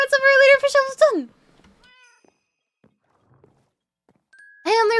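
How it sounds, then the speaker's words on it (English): Cat meowing indoors: a close, loud meow at the start, quiet pause with faint small sounds, then another meow at the end. "I have a couple cats."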